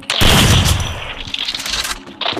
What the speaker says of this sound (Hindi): शॉटगन हमला करना है मुझको